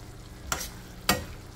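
Pork menudo simmering in vinegar in a pan gets stirred twice, each a brief scraping swish about half a second apart, over a quiet low sizzle.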